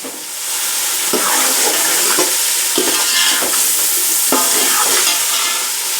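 Potatoes fry in spiced masala for matar pulao, a loud, dense, close sizzle that runs throughout, with repeated scraping stirs at roughly one-second intervals and no speech.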